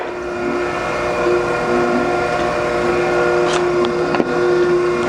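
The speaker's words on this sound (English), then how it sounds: "We'll go ahead and start the grinding wheel." An Okamoto 12 by 24 inch high-precision hydraulic surface grinder runs its grinding wheel, giving a steady, loud mechanical hum with a sustained tonal whine and a few brief clicks near the end.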